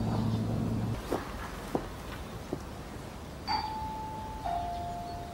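A house doorbell in a scene from the Ju-On horror film gives a quiet two-note chime, the second tone lower and lingering, preceded by a few soft knocks or footsteps in a hushed room.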